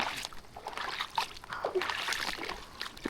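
Wet, sloshing squelches and small splashes repeat in an irregular rhythm close by, like water being pressed out of a soaked shoe with each step.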